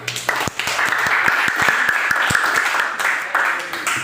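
A small school class of seventh graders claps with distinct individual hand claps over a few seconds, while a voice speaks underneath.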